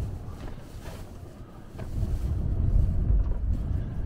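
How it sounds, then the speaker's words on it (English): Strong storm wind buffets an exposed Peak District hilltop during Storm Katherine, a steady low roar that swells louder in the second half, with no talk. "Wind's really strong up here."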